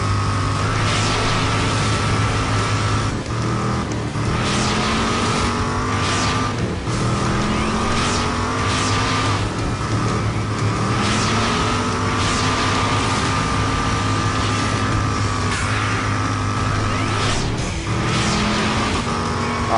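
Race car engines in the video game Rage, several engines whining and revving at high pitch with repeated gear-shift sweeps and passing swooshes, loud and continuous throughout.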